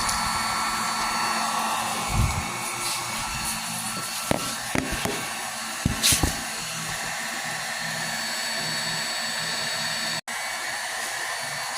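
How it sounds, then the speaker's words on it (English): A heat gun blows steadily on the headlight of a 2012 Mini Cooper R56, a constant close airy whoosh broken by a few faint knocks and clicks. "using the heat gun"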